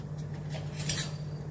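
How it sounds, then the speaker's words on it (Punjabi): A spoon stirs ginger garlic paste into boiling water in a pot, giving faint scattered clinks with one brighter scrape near the middle over a steady low hum. "ਚੰਗੀ ਤਰ੍ਹਾਂ ਹਿਲਾ ਲਓ"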